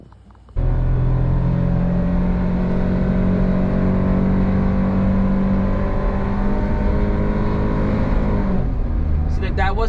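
A Suzuki Jimny JA11 engine roars at high revs, up to 6,000 RPM, for several seconds, a loud sustained drone that cuts in abruptly and then drops off.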